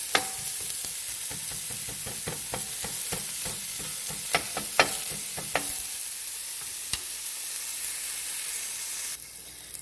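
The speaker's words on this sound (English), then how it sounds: "We're going to cook these onions until they're translucent." Onions cooking in a pan for red lentil coconut curry, a continuous close sizzle punctuated by sharp clicks and taps of a utensil stirring, with activity easing toward the end.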